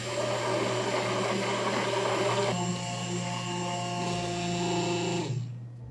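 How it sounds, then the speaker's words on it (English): An immersion blender whirs steadily through an orange Cointreau flan mixture, a loud continuous motor hum that shifts pitch partway through as the load changes, then cuts off near the end. "now I'm gonna use the immersion blender, and this will help me to have a very smooth texture for my flan"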